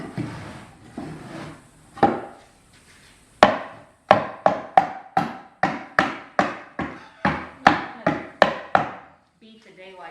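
A hammer taps a snug wooden bee box super part into place: after a few softer knocks, about a dozen sharp, evenly spaced wooden raps follow in a steady rhythm, close and clear, with no voices.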